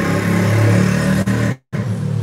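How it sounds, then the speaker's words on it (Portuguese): A motorcycle revs loudly close by, its engine note rising steadily before cutting out abruptly for a moment and then resuming. "O barulho da moto."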